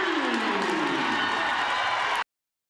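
Crowd at a boys high school basketball game erupts after a step-back three-pointer, a loud sustained roar of cheering and applause, dense and continuous, cutting off abruptly after about two seconds.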